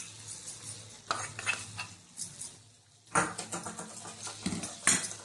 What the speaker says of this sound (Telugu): తర్వాత ఈ తాలింపు దీంట్లో వేసుకుంటాం.